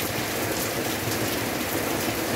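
Heavy rain mixed with volcanic ash falling after the Semeru eruption in Lumajang, East Java, a dense, loud, continuous hiss of downpour with no voices.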